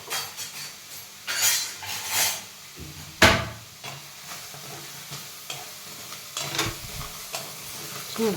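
Vegetables being stir-fried in a pan in a home kitchen, bursts of sizzling broken by spatula scrapes, metallic clanks against the pan and a sharp knock, close and intermittent.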